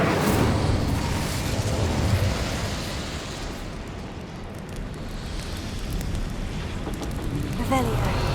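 A roaring burst of flame from the Incendio fire spell in Hogwarts Legacy, a broad rushing whoosh that fills the stretch, loud at first, easing slightly, then swelling again near the end.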